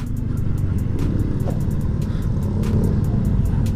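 Busy road traffic in Pampanga, Philippines, on the way from Dau, Mabalacat toward Balibago, Angeles, with a steady close rumble of car and motorcycle engines and a few brief higher tones over the low drone.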